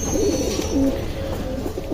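Thor breeder pigeons kept at home coo steadily and close by, with low overlapping calls running throughout under a continuous background murmur.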